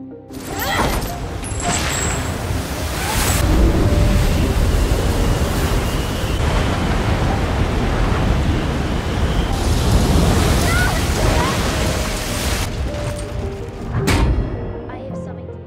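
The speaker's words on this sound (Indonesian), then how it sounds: "Akhirnya badai besar pun datang" Roaring wind and crashing waves of a storm at sea around a small sailboat fill the scene continuously, loud and turbulent, with surges of surf and gusts building and easing.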